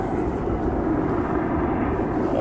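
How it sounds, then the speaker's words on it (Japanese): A very loud helicopter hovering overhead in one spot, a dense, constant rotor and engine roar filling the whole stretch without letup, with no voices. "むちゃくちゃうるさいヘリコプターが、しかもずっと上をホバリングしている"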